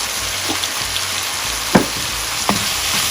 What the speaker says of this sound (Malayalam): അതൊന്ന് സോട്ട് ചെയ്ത് കൊടുക്കാം